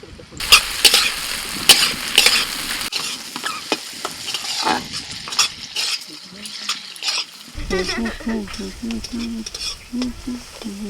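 Sun-dried lentil dumplings (dal bori) frying in a pan, with a loud, crackling sizzle and bursts of stirring and utensil scrapes that ease into a softer, steady fry toward the end.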